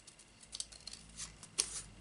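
Scissors snip through a strip of white paper or card for a handmade Christmas tag, a few quiet close cuts and rustles, brief and faint with no talking.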